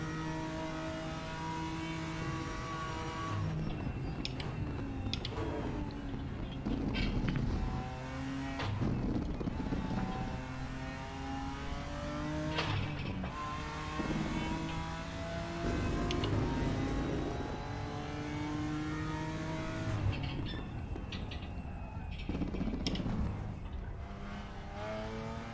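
Porsche race car engines in the RaceRoom racing game rev and scream through gear changes, with repeated upshifts and throttle lifts, loud and sustained with no talk.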